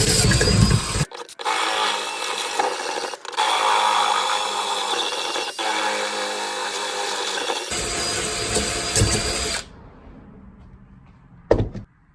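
A 1/2 inch bit drills and reams out holes for new U-bolts during a Rough Country 2.5-inch lift kit install on a 1965 Jeep CJ5. Several loud, sustained grinding bursts are split by short pauses, followed by a quieter tail and a sharp click near the end.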